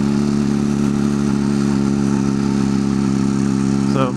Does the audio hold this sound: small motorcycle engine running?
yes